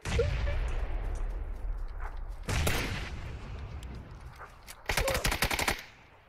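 Bursts of gunfire in a shooter video game, one sharp volley near 2.5 s and a rapid automatic burst around 5 s, over a steady mix of game ambience.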